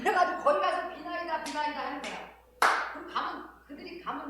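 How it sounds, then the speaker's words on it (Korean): Someone speaking during a Sunday church sermon claps his hands a few times to demonstrate clapping at a Japanese shrine, with sharp, close claps set between stretches of his talking. "박수를 치잖아."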